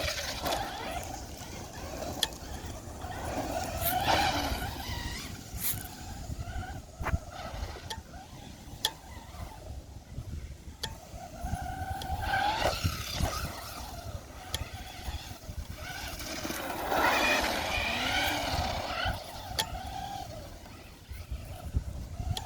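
A Traxxas Rustler 4X4 RC car drifting outdoors, its small electric motor whining up and down in repeated bursts with tire scrabble, rising and fading as it slides around at a moderate distance.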